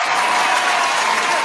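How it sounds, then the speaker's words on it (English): Steady, dense applause from a crowd honoring two women singers on a music show, loud and continuous throughout with no pauses. "That round of applause for both of those ladies"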